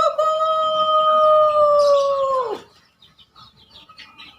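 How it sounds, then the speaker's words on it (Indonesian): A rooster lets out one long, loud, close crow that holds steady for over two seconds before breaking off, followed by faint scattered background noise. "Akhirnya berkokoklah ayam."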